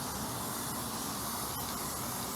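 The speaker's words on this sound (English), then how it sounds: "A quick degreaser for this aircraft type goop works pretty well as this silicone spray here." Continuous loud hissing spray of silicone spray degreaser on a 1967 Mooney aircraft engine, steady and close with a few brief breaks in the jet.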